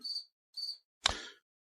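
A cartoonish phone ringing with an insect-like cicada chirp, two short buzzing trills followed by a sharper clicking burst, close and clear with no talk.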